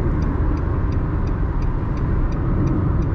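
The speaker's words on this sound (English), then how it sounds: "today we'll make a test drive for Nissan Sunny 22. Silver color on the highway," A silver 2022 Nissan Sunny cruising on a highway at night, with steady road and engine noise and a faint regular ticking over the constant rumble, heard from inside the car.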